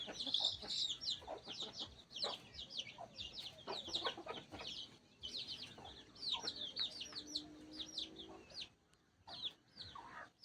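Desi country hens cluck and chatter continuously at close range on a poultry farm, short repeated calls overlapping in a busy, uneven rhythm with brief pauses.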